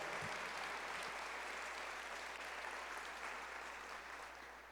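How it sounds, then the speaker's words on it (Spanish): Congregation at a church service applauding together, a dense, steady wash of clapping that fills the room and fades slightly toward the end. "Ahora quiero que le des un aplauso a Jesús"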